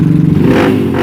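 A Honda GL Trail 200 motorcycle fitted with an SND Racing exhaust, revving gently up close: a loud, throaty, burbling engine note with a slight climb in pitch over one second.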